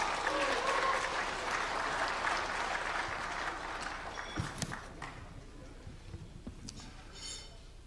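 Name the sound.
audience applause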